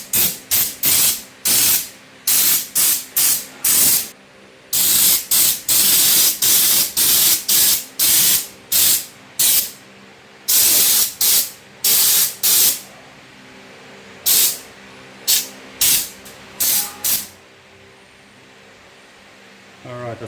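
Spray paint hissing onto a rebuilt HQ GTS coupe cowl, in many short bursts and longer passes separated by pauses, close and loud.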